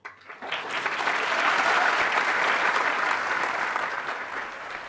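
An audience at a talk bursts into applause that swells quickly and holds as a dense, steady wash of clapping for several seconds.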